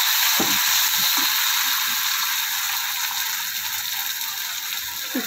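Chopped tomatoes go into a pan of frying onion, green chilli and capsicum, raising a steady, loud hiss and sizzle with occasional soft stirring knocks, close up and without speech.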